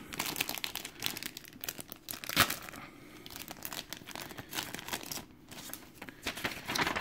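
Taped paper instructions pulled off the bottom of a box, a continuous close crinkling and crumpling with tearing bursts, papery rustles rising and falling for several seconds.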